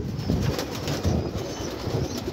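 A pigeon claps its wings in a quick series of soft, close flaps, while a low cooing murmur runs underneath.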